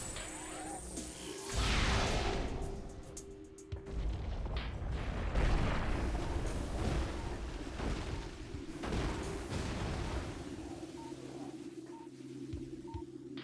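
Missiles fired in Metroid Prime Remastered, a series of booming launches and impacts with mechanical whirs and sonar-like tones, loud and continuous over an ambient game backdrop.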